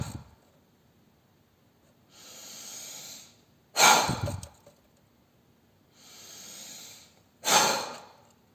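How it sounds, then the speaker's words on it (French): Forceful breaths during an active breathing exercise: two cycles, each a softer inhale followed by a sharp, loud blown exhale, heard alone with quiet pauses between them. "Vous inspirez par le nez ou la bouche, peu importe, et soufflez. Vous mettez de la force dans votre souffle."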